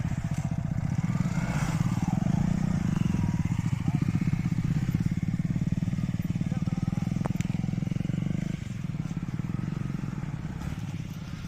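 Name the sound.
motorbikes riding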